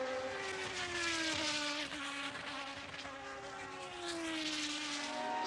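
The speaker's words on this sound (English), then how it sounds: "And listen to Andretti's engine, he's in trouble." A Formula 1 car in trouble at the 1977 British Grand Prix at Silverstone, its high engine whine passing and shifting pitch, with a second engine sweeping down, heard amid steady track noise with no talk.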